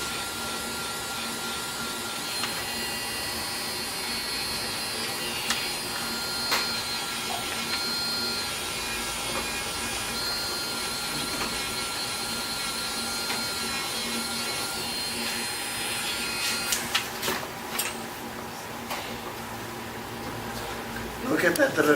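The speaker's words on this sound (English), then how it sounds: "the polishing of the ridges" A polishing machine works over the ridges of a piece, giving a steady mid-level whirring grind with small clicks and scrapes, rougher and busier toward the end.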